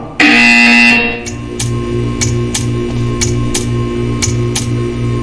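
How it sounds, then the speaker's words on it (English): A loud electronic buzzer from the video game Portal 2 blares for about a second, then a steady pulsing tick of evenly spaced beats continues alone over a low mechanical hum. "You will hear a buzzer."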